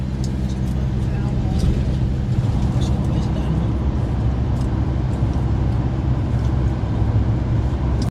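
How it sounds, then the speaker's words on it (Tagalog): Steady road traffic rumbles nearby, a dense low roar of passing cars and buses that holds without letup, with people talking over it. "Traffic."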